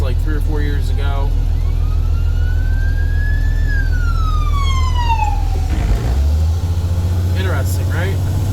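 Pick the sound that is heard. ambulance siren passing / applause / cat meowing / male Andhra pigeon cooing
ambulance siren passing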